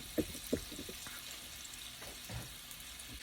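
Shrimp for fried rice fry in a pan with a faint, steady sizzle, broken by a couple of brief clicks or stirring knocks early on; no talking.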